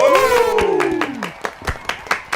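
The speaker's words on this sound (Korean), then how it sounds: "박수!" Several people clap in a radio studio, at first under a sliding, pitched vocal exclamation and then as a few sharp, separate claps, close and moderately loud.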